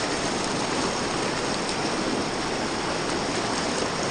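Steady rushing water from a river at a creek crossing on the John Muir Trail, a continuous broadband wash with no voices.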